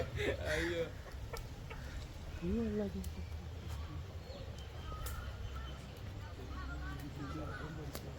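Chickens cluck intermittently in the background, with voices talking over them throughout.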